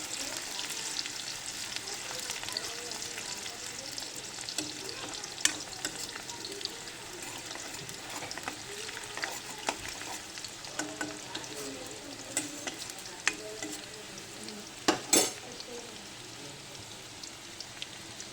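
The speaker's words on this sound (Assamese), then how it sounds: "এয়া পিঁয়াজখিনি লৰাই দিলোঁ।" Onions fried in a pan for a chicken curry, giving a long, even crackling sizzle like light rain, with occasional stirring scrapes and a couple of sharper clanks near the end, no talking.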